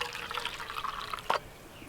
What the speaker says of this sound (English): we'll take 3/4 of a cup of hot water